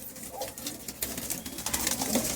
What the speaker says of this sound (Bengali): কালদম পায়রা একদম বিগ সাইজ পায়রা